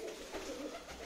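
Madrasi and Punjabi pigeons cooing among a flock of 65 birds up for sale, a soft, throaty warble that stays faint and continuous against background noise for about a second.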